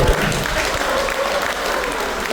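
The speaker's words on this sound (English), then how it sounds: "round of applause, right there" An audience at a Lennox Lewis speaking event in Cardiff claps in a dense, steady round of applause that stays loud throughout.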